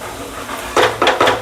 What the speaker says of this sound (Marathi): परत चांगलं मिक्स करून घ्यायचं